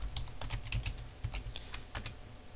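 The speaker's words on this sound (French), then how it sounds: "On va ici taper CMD." Someone types a short command on a computer keyboard, a quick run of light, close key clicks with brief pauses between them, alone without talk.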